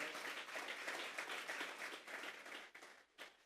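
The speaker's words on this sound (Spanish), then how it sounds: "Vamos a darle una ofrenda de palmas a Dios en esta hora." A church congregation claps together during a Spanish-language service, a dense run of applause that thins toward the end with a few last claps.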